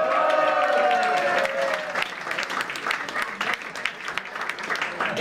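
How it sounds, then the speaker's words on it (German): Crowd applause at a Basel carnival event, brisk clapping with scattered individual claps rising through a brief musical tone at the start, continuing unevenly with some crowd murmur underneath. "das geht ein Applaus für dich"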